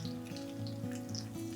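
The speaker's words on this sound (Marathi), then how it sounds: "आपली फोडणी छान झालेली आहे" Asafoetida and small pieces of dried red chili sizzle in hot oil for a tempering, heard close up as a steady, continuous crackle with no voices.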